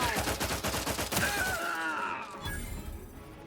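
Rapid bursts of gunfire in The Outer Worlds 2 fire fast and loud, then thin into scattered shots, with a spoken voice over the tail end.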